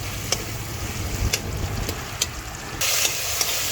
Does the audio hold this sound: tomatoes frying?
yes